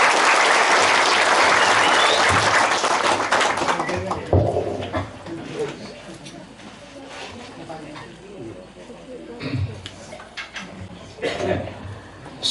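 Enthusiastic applause from a crowd welcomes a speaker at a village gathering in Kepatihan, Wonogiri, Indonesia; loud, dense clapping starts the clip and gradually thins into scattered claps, mixed with crowd murmur, occasional louder claps and some talking.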